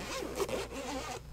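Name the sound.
zipper of a padded hole saw kit case being opened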